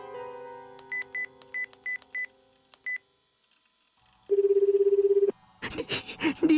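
A phone being dialled: a string of short, evenly spaced keypad beeps, then a pause and a long, steady ringback tone, followed by a voice coming in near the end.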